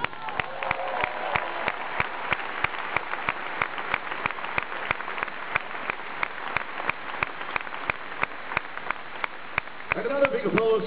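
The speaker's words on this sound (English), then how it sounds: "Big applause for him" Concert audience applause in an arena after a show, sustained clapping with regular sharp claps standing out over the crowd, and a voice coming in near the end.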